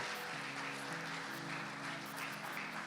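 Church congregation applauding during worship, a dense, even wash of clapping that runs steadily throughout with a faint tonal layer of music beneath it.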